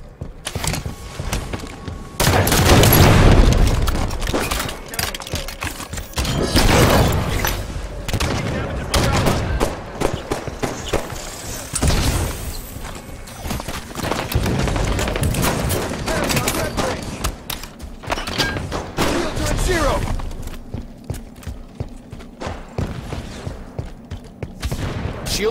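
Rocket launcher blasts and explosions in a Halo 5 Slayer match, heavy booms and bursts of gunfire mixed with clattering game effects, loud and dense with several big impacts spread across the stretch.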